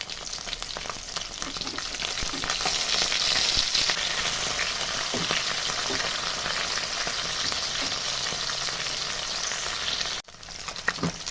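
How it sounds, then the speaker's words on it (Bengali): Rohu fish pieces fry in hot oil with a loud, dense, continuous sizzle close by, broken briefly near the end by a short dip and clatter as the fish is turned, after which the frying resumes. "এদিকে কিন্তু মাছ ভাজা এক পাশ হয়ে গেছে, এবার আমি উল্টে দেব।"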